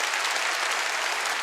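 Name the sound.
congregation clapping at a church service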